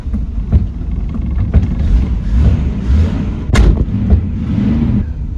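An old Ford F-series truck, sitting unused for 30 years, cranks and rumbles into a loud, rough idle, a low uneven engine drone with thumps and a sharp clank partway through.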